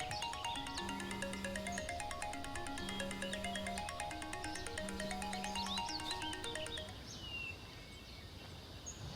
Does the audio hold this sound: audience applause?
no